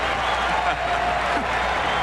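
Philadelphia fans at the 1996 Home Run Derby, a dense, steady crowd roar of cheering and applause filling a stadium.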